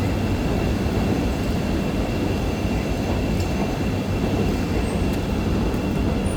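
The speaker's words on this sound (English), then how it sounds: "With the train going by." A train rumbles past on the tracks in Chicago, a loud, steady roar of wheels and carriages filling the whole stretch with a constant low rumble and faint metallic squeals, no voices over it.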